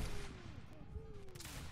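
A musket volley at a Waterloo reenactment sounds faint and distant as a short crackle of shots over outdoor background noise.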